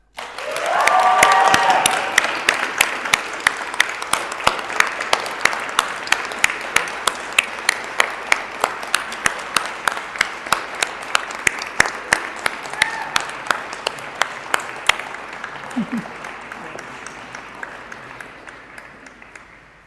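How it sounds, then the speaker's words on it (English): Graduation ceremony audience applauds a best graduate award winner, a burst of crowd clapping that settles into rhythmic, evenly spaced group claps before fading out, with brief voices at the start. "please clap your hands again for Frank Martin"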